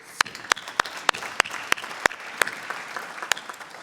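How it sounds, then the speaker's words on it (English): Sparse, sharp individual claps ring out in a municipal council meeting room, around a dozen distinct handclaps at uneven intervals over faint background murmur. "It was a well-run program that deserves a round of applause."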